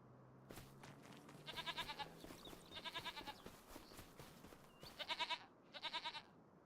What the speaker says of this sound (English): Dan, you better get your sheep in line, or your goats in line